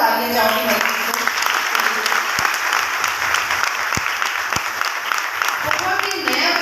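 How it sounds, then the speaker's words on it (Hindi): Loud, dense applause from an audience fills a network marketing training event for Modicare in Rajasthan, steady throughout with occasional sharper individual claps standing out. "एक बार जोरदार तालियां चाहूँगी"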